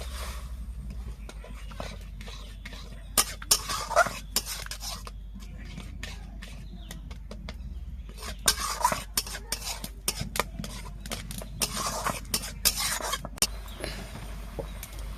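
A spoon stirs a semolina and flour batter with milk in a bowl, giving intermittent scraping and clinking bursts against the bowl over a low steady hum, loud near the start and middle.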